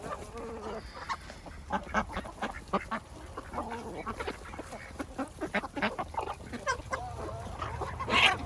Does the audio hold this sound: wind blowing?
no